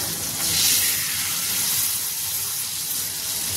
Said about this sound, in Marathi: त्यामध्ये आता आपण हे मॅरिनेट केलेलं चिकन